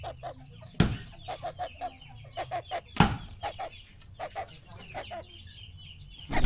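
A Chabo bantam hen clucking nearby in a backyard farm pen, a steady run of short soft clucks with two sharper loud bursts among them.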